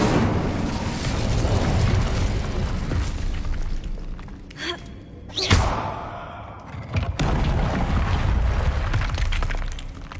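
The Incendio fire spell is cast in Hogwarts Legacy, giving sharp bursts around the middle with a loud blast and a crackling tail over dense, continuous game noise.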